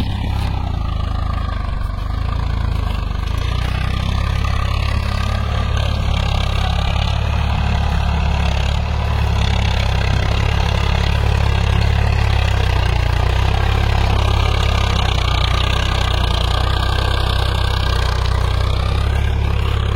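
A Swaraj 744 FE tractor pulling a 5-tyne cultivator runs steadily in a field, its deep, constant diesel engine drone close and loud throughout with no pauses.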